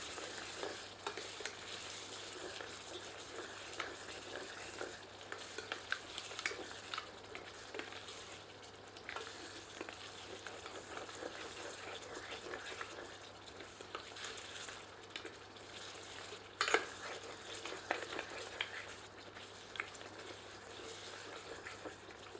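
Spices get stirred into a goat trotter paya masala curry in a pot, with a soft, steady simmering sizzle and scattered scraping strokes, one sharper clank partway through, quiet and without speech.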